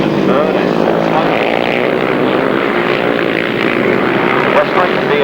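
Grasstrack racing motorcycles at a 1993 meeting, including a Godden-engined machine, Westlakes, a DSA and a Jawa, roaring flat out around the top turn in a loud, continuous blare of engines that stays steady throughout.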